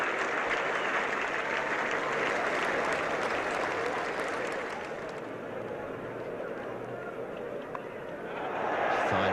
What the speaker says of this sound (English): he's getting a very good hand from this big crowd